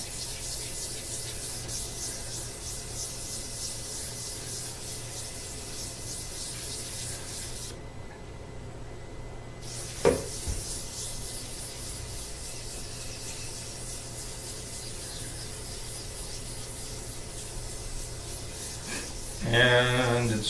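Lacquer on an electric guitar body is wet sanded in circular strokes, producing a continuous soft close rubbing and swishing with a faint click partway through and a louder scrape near the end.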